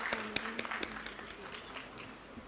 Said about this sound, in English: Could we have a huge round of applause for our esteemed guests